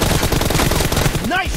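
M416 rifle fire in the PUBG video game: a loud, close burst of rapid gunshots packed into a second and a half, with a brief voice near the end.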